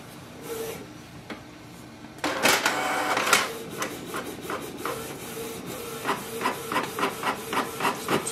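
A Canon TS3700 printer runs a test page: a quiet mechanical start, then a louder stretch of whirring and rubbing feed noise, ending in a steady run of short rhythmic clicks and rasps, close by with no talk.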